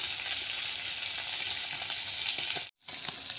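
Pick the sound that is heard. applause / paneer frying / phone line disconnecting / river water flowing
paneer frying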